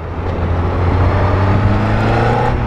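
A Honda CBR1000RR Fireblade motorcycle roars close and loud with a strong, steady low engine drone that swells slightly as it revs.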